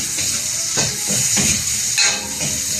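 Onion and garlic sauté in a hot pan, close and loud, with a continuous hissing sizzle and a few soft stirring scrapes and swells.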